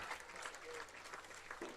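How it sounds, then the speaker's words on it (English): A crowd at a high school football game claps for an injured player being taken away by ambulance, a faint, distant, steady applause heard briefly. "Another round of applause for"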